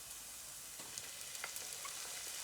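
Garlic sizzling as it hits a hot pan with translucent cooked ingredients for duxelles, a steady faint frying hiss with small crackles and pops scattered throughout.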